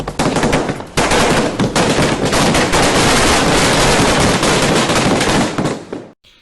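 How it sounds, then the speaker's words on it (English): A Diwali fireworks display sends out a dense, continuous barrage of loud crackling bangs and rapid-fire pops with almost no pause. The volley cuts off abruptly near the end. "there are smaller, more intimate fireworks displays"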